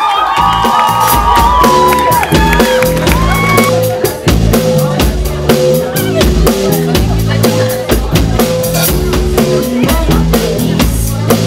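A crowd cheers and whoops for a rock band at a live show, loud and sustained throughout, with shouts and tonal sounds carrying over the din.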